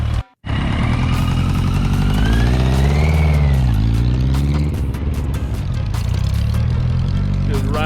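A 1983 Yamaha XJ750 motorcycle rides off, its engine rising and falling in pitch as it pulls away, steady and fairly loud throughout with voices and cheering mixed in.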